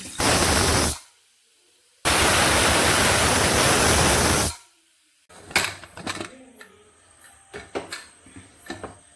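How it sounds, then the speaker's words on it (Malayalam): Two loud bursts of rushing steam hiss from a pressure cooker cooking chicken, then stop, followed by a few light clinks and clatters of kitchenware. "കുക്കർ അടിച്ച് 2 വിസിൽ."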